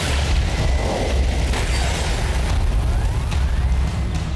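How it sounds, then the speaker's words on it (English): A cartoon Spinosaurus water cannon attack sounds as a loud, continuous rushing, booming blast that holds steady for several seconds with no talking. "Spinosaurus, water cannon!"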